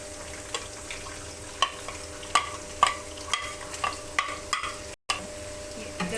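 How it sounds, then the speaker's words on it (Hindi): Finely chopped onion frying in about three-quarter cup of oil for Punjabi mutton pulao, a steady close sizzle broken by repeated sharp scraping and stirring clicks, no talking. "उसमें ये बारीक कटा हुआ प्याज हम शामिल कर देंगे फ्राई करने के लिए"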